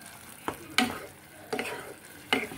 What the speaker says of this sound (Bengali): ডালটা দিয়ে আমাকে খুব ভালো করে মিক্স করব, নাড়াবো পুরো ডালটার সাথে এই মশলাটা যেন মিশে যায়